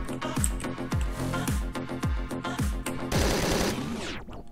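Rapid bursts of gunfire from the top-down shooter Hotline Miami 2: Wrong Number, a steady string of about nine sharp shots followed by a denser, noisier burst, loud and close with no talk over it.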